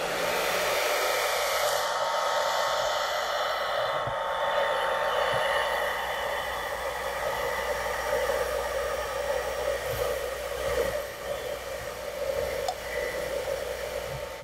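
A hair dryer on cold shot blowing steadily and loudly for the whole stretch, a continuous airy roar with slight shifts in tone.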